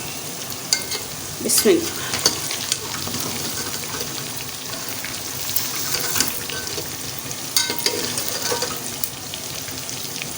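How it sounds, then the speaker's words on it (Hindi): Onions fry in ghee in a pan used for roasting okra, a continuous close sizzle with bursts of louder crackling and stirring, and a short spoken word near the start. "इसी घी में मैं प्याज डालने लगी।"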